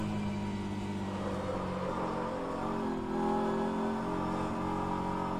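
Hypercar engine in the rFactor 2 racing game at Interlagos, Brazil, during a six-hour endurance race: a steady, droning engine note holds throughout, with a slight swell in pitch and level partway through, and no talk.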